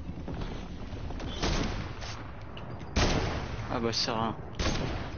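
Gunfire in Fortnite, muffled shots and booms layered over a steady game background, with players chatting throughout.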